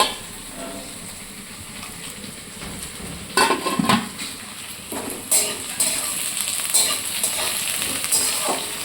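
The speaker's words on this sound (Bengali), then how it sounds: "এই সবজিগুলো ভাজা হয়ে যাওয়ার পর তারপর দিলাম ক্যাপসিকাম" Mixed vegetables frying in a pan at home, a steady sizzle with repeated clinks and scrapes of a spatula against the pan, fairly close and loud, without talk.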